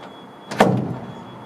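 The tailgate of a 1957 Chevrolet 3100 half-ton pickup truck is pulled open and its latch catches with a single close metallic clunk, followed by a brief fading rattle.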